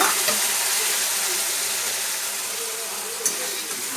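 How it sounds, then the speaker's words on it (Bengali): Masala spice paste frying in a pan as a little water is added while cooking a jackfruit-seed dal, a steady hissing sizzle that slowly eases, with a faint clink near the end. "মশলাটাকে এবার আমি ভালো করে কষিয়ে নেব সামান্য পরিমাণে জলের মধ্যে দেব"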